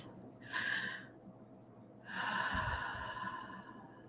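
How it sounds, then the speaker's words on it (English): Two deep breaths taken during a mindfulness meditation, each a soft, close, airy inhale followed by a pause, with no talking. "focusing on the breath coming into your body, into your lungs"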